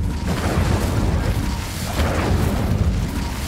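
An Incendio fire spell from Hogwarts Legacy, cast in a battle arena, roars as a continuous loud, rumbling whoosh of flame with dull booming surges throughout.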